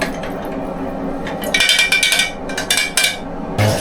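Fixer chemical for home film developing being mixed in a tank, with a run of clinking, knocking and sloshing strokes, close and fairly loud, in irregular bursts.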